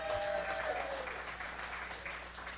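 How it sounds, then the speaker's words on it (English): A contemporary art institute audience applauds steadily in a dense, even wash of clapping that holds at moderate loudness for a few seconds with no talk. "I'll take a clap."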